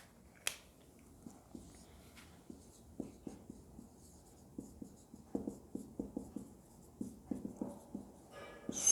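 Chalk or marker strokes on a board during a Hindi fluid mechanics lecture, a series of short scratchy taps and strokes in irregular rhythm, fairly quiet and close, with no talking.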